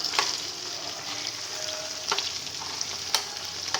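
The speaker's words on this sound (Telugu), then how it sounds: "ఒకే వైపు ఉంచకుండా మధ్య మధ్యలో ఇలా తిప్పుకోండి ఇంకా కొంచెం ఇంకొక రెండు నిమిషాలు వేగితే సరిపోతుంది" Brinjal frying in a pan with coconut spice powder, a steady close sizzle and crackle with occasional scraping clicks as the pieces are stirred.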